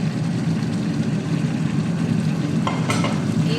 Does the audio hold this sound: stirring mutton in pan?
yes